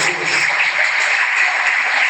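A church congregation applauds for Christ, a dense, loud, continuous wash of clapping hands with no breaks.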